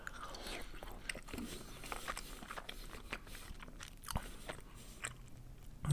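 Someone eats khinkali dumplings with bread, giving close, quiet chewing and soft crunchy bites that repeat steadily at an intimate, mic-close level.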